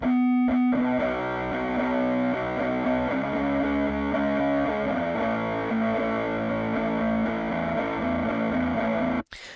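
An electric guitar played through Harmor Classic distortion with the preamp turned fully up, chasing a grunge tone: a thick, saturated sustained chord ringing steadily for several seconds before cutting off abruptly.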